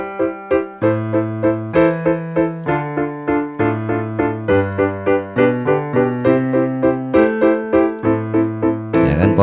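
A keyboard plays a plain 1-6-2-5 pop chord progression, a steady sequence of clear sustained block chords struck one after another with an even rhythm, alone without talk.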